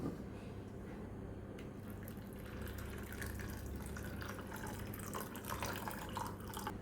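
Water is poured over washed sabudana pearls in a bowl to soak, a faint, soft trickle and splash continuing quietly throughout.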